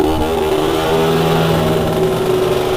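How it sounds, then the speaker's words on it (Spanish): Vespino moped engine and exhaust running steadily and loud at close range on a road trip, a buzzing two-stroke drone with clear harmonic tones and slight revving, no voices. "El escape también me da la sensación como que suena ahora más"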